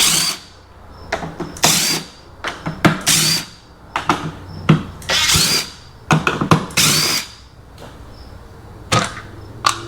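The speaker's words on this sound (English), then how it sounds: "I'm just using my driver here, just remove it" A handheld power driver whirs in short, repeated bursts while backing out 8 millimeter bolts from the headlight cover of a 2024 Ram 1500, with close, loud spins separated by brief pauses.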